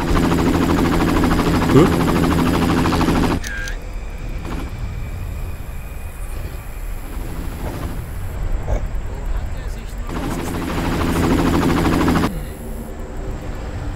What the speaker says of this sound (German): Also ich höre einen Hubschrauber, aber sehe keinen.